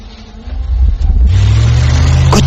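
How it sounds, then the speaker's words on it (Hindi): A car engine starts on a cold winter morning, a low rumble that swells quickly and settles into a loud, steady, close idle. "मैं गाड़ी में बैठा और गाड़ी स्टार्ट की।"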